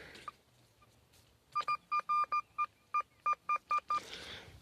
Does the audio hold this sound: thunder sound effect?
no